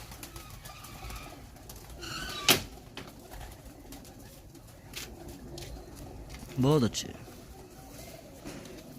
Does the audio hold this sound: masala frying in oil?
no